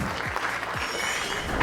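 Audience applause at a drivers and partners workshop as an insurance agent is welcomed on stage; steady broadband clapping fills the whole short stretch at moderate level, with no voices over it.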